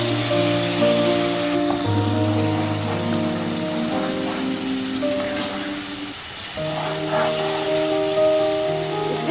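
Tomato paste hitting hot frying oil for a Pakistani-style fish curry makes a crackling, rain-like sizzle that carries on steadily beneath background music.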